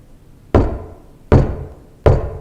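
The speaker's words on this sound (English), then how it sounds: "There was another knock." Three heavy knocks land on a door, evenly spaced and loud, each with a booming resonant thud that rings briefly in a quiet room.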